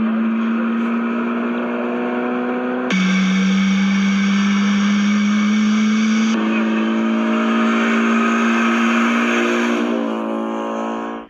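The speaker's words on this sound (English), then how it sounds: "A prototype of the E-Rex engine has been created and shown running in an MX-5." A prototype 500cc Mazda E-Rex rotary engine runs in an MX-5, giving a loud, steady buzzing drone that shifts pitch twice as it revs, then cuts off abruptly at the end.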